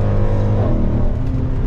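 A Mercedes C63 AMG W204 accelerating hard with traction control fully off, its V8 a loud, close, continuous roar with rising engine tone throughout.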